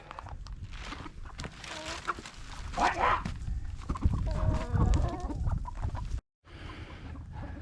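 Chickens cluck and squawk inside a winterproofed chicken coop, a busy, close chorus of overlapping calls with rustling, briefly dropping out before the noise resumes.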